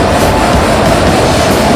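Godavari Express train running with a steady, loud broadband rumble of wheels on rail, continuous and close, with no voices.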